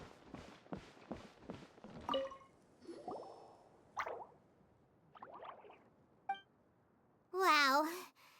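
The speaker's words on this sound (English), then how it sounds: "it sounds like a water droplet is on the second floor" A water droplet drips in Genshin Impact, giving a quick run of soft, evenly spaced plops up close, then scattered small splashes and clicks, ending in a short high voice.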